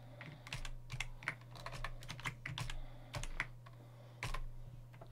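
Quick, uneven keystrokes tap on a computer keyboard while software is installed, close but fairly quiet over a steady electrical hum, with no one speaking.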